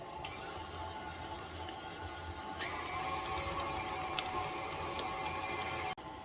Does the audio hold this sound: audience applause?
no